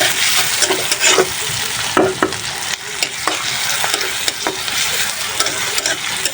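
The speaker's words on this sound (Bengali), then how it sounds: "আমি কড়াইতে তেল দিয়ে দিয়েছি, আর সেখানে সেই পেঁয়াজ কুচি আর কাঁচামরিচ কুচি ভেজে নিচ্ছি" Chopped onion and green chilli frying in oil in a wok, with a steady broadband sizzle and repeated scraping stirs throughout, close and fairly loud, with no talking.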